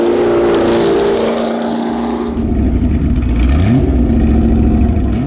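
A Porsche 908 Longtail's flat-8 racing engine revs loud and close, a steady roar that eases, then climbs again in pitch with a rising rev.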